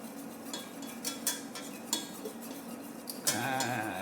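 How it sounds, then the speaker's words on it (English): A spoon scrapes and clinks against a pan as a flour-and-butter roux is stirred and left to bubble. Several sharp metallic taps come at irregular intervals over a low simmer, and the cooking noise grows louder near the end. "keep stirring this, because you don't want lumps, but you want to cook it out so you get that raw flour flavor out of this"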